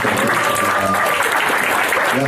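A live comedy show audience applauds in a continuous, loud, close wash, with speech mixed in over the clapping.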